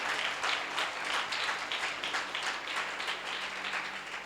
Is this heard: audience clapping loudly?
yes